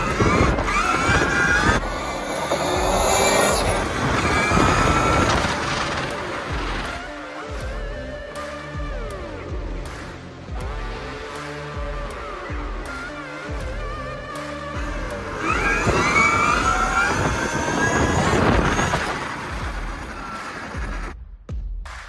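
An electric trike is ridden outdoors, giving a rising and falling whine with whooshing wind and tyre noise that swells as it passes near, dips in the middle, then builds again toward the end.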